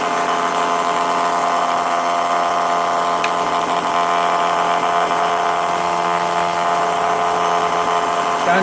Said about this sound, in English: I'm just doing some sharpening